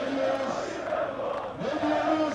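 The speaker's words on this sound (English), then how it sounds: "The crowd is chanting Recep Tayyip Erdogan." A large crowd chanting Recep Tayyip Erdogan's name at an airport rally, voices rising and falling in a loud rhythmic chant that swells again toward the end.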